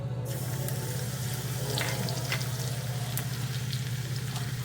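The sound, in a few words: mustard seeds spluttering in hot oil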